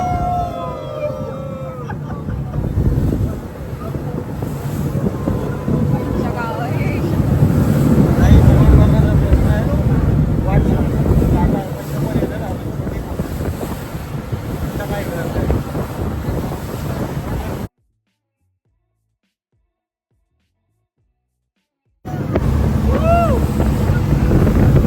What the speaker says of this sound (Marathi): बोट 2-3 वेळा बंद पडली आहे आणि त्याच्यात अजून जोरजोरात लाटा